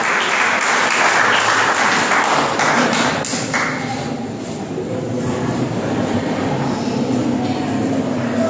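Loud, dense applause from an audience at an Uttarakhand Foundation Day event, welcoming a speaker with a sustained roar of clapping that eases slightly midway, then holds.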